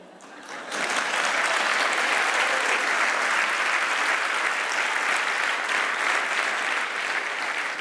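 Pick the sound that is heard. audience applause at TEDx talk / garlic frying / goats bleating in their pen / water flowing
audience applause at TEDx talk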